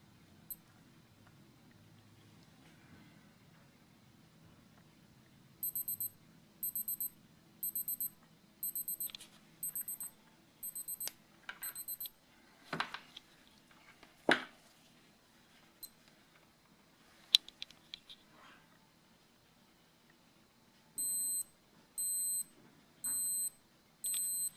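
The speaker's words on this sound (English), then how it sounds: "It has a louder alarm and timer alarm and these sort of things than the older 5000." Two Casio G-Shock digital watches, a GW-BX5600 and an older GW-5000, sound their alarms in turn: first a regular series of short, loud electronic beep bursts, then scattered button clicks, then a second, similar set of rhythmic beeps.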